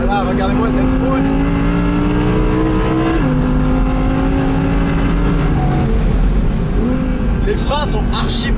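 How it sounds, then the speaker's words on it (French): Audi R8 V10 RWS with sport exhaust, loud and close, its engine note holding steady then dropping as the throttle lifts off, with crackles near the end; a voice talks over it throughout. "L'échappement sport, évidemment, quand tu le relâches."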